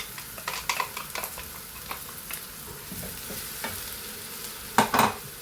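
Ground tomato paste sizzles in a pan for a Rayalaseema-style fish curry while a spoon stirs it. A soft continuous fry carries scattered scraping strokes and a louder pair of stirs near the end, with no talk.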